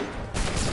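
A musket volley in the video game Assassin's Creed 3: a short, loud burst of massed gunfire cracks out after a brief quiet moment and keeps rumbling.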